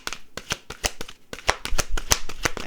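A tarot deck shuffled and cards drawn for a reading, rapid crisp riffling snaps in a steady rhythm, close and loud with no talking.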